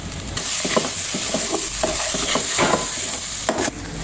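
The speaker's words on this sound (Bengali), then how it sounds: "আমার চালটা ভাজা হয়ে গেছে" Rice and lentils for bhuna khichuri, seasoned with salt, turmeric, coriander-cumin powder and a little chili powder, fry in a pan with a steady close sizzle and repeated scraping stirs, without any talking.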